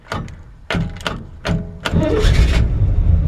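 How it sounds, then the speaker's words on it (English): A 1965 Chevrolet C10 fleetside pickup with a V8 cranks in several short, halting bursts from a starter that hangs up slightly, then catches and settles into a loud, rumbling idle close by. "I'm not exactly sure why the starter's doing that. It's just hanging up just a hair."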